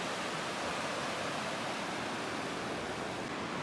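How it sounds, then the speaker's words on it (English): Gentle incoming tide waves wash over the sand at San Josef Bay beach, a soft, continuous hiss with no breaks, faint and alone. "It's like a mini tidal wave coming in."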